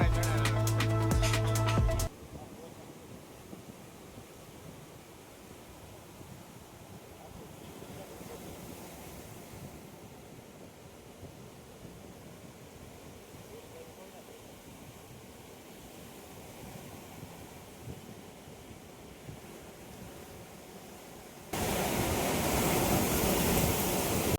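Sea waves wash onto Tithal beach in a soft, steady surf rush mixed with wind noise, framed by brief louder sounds at the very start and end.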